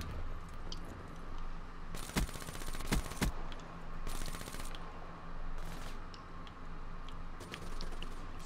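Video game gunfire in Black Ops 3, bursts of shots in clusters of loud broadband cracks spread across the clip, with a few sharp single reports standing out over a steady game background.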